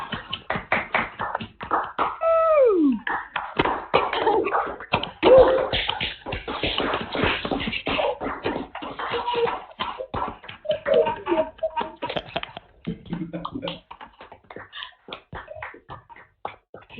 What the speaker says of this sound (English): So with a final round of applause